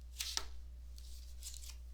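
Oracle map cards drawn and shuffled in a card reading, heard as a few quick, faint papery flicks and slides close by over a low steady hum, with no talking.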